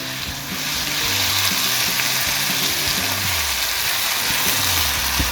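Peas tipped into a pan of spiced beef set off a loud, steady sizzle and frying crackle, with some stirring and clatter throughout and no talking.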